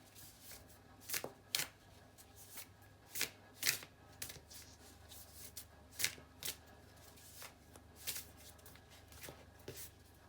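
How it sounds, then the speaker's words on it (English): Tarot cards being shuffled, quiet papery riffles and soft slaps arriving in irregular bursts over a faint steady background hum, with no talking. "I'm just going to pull another card for a little bit more information"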